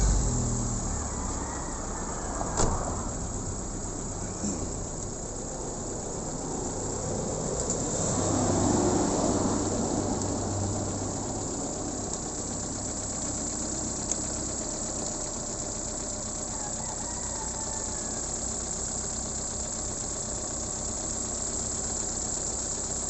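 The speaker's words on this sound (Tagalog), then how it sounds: "start ko ulit yung engine." A Ford Lynx 1.6 car engine treated with engine lube starts up and then idles at a low, even level, with a faint mechanical rumble and a few small knocks over the steady hum.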